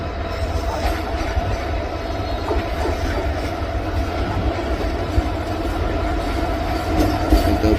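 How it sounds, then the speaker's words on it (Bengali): The Burimari Express leaves Joydebpur Junction for Dhaka with a steady, heavy rumble of rolling railcars, soft clickety-clack and occasional wheel squeal, growing slightly louder toward the end. "পিএলসি নিয়ে বুড়িমারি এক্সপ্রেস ট্রেনটি ঢাকার উদ্দেশ্যে ছেড়ে যাচ্ছে"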